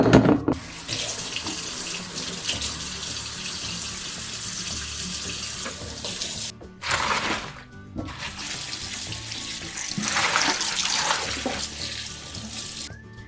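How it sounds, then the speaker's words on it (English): Garden greens rinsed under a running kitchen tap, a steady close rush of water into the sink that breaks off briefly twice, then resumes with splashing as the leaves are moved through the stream. "Now let's wash these greens first."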